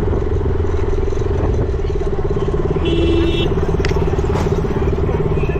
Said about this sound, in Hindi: अभी तो मैं बाइक चला रहा हूँ